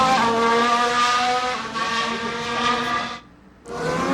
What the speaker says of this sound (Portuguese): O que você tem que perceber no Fórmula 1 é a diferença de frequência.